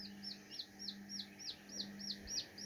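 Small hatchling chicks peep in a quick, regular series of high, bright chirps, close and fairly quiet, with a faint steady hum underneath and no talking.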